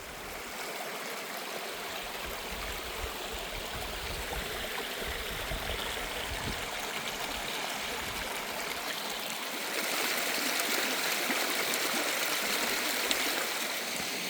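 A creek flowing through a storm debris field after a hurricane, a steady close rushing and trickling wash that grows a little brighter and louder toward the end, with no voices.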